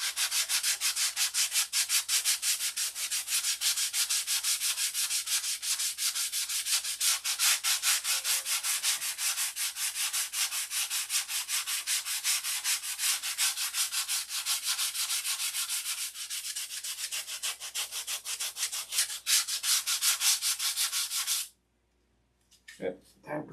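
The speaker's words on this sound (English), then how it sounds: "time for some more sandpaper" Hand sanding with sandpaper while painting a model, a steady continuous scratchy rubbing that runs unbroken for over twenty seconds before stopping abruptly.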